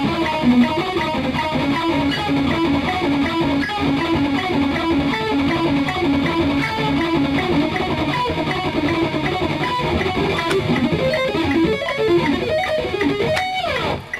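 Distorted electric guitar plays rapid sweep-picked triad arpeggios in a shred metal exercise, loud and unbroken with even rippling note patterns for the whole stretch, no voice over it.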